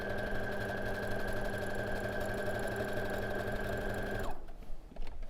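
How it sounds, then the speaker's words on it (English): Sewing machine stitching a quarter-inch seam on quilt fabric pieces, a fast steady mechanical whir that runs for about four seconds and then stops, close up. "I'm going to start sewing, and I'm going to sew that seam"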